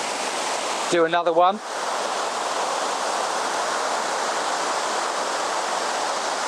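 Steady roar of a waterfall in the Yorkshire Dales, a broad continuous rush of falling water close by, with a brief spoken phrase near the start over the noise.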